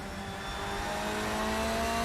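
A BMW GT2 race car drives on the Brno circuit in a racing game, its engine holding a loud, steady, slowly rising drone without a break.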